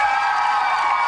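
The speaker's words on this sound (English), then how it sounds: "Big round of applause, everybody." Game show studio audience cheering and applauding loudly and steadily, a dense wash of claps, whoops and shouts filling the short moment without a break.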